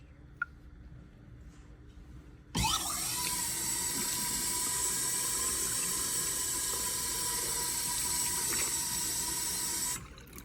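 Water gushes from a tap in a hospital labor and delivery room, starting abruptly after a quiet stretch and running as a loud, steady broadband rush for about seven seconds before cutting off.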